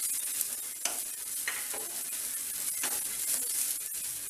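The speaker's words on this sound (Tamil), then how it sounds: "கொஞ்சம் தேங்காய் மட்டும் கொஞ்சம் ப்ரௌன் கலரில் வரட்டும்." Grated coconut roasts in a pan for a banana sweet, a soft, close sizzle broken by repeated scraping stirs, fairly quiet and without voices.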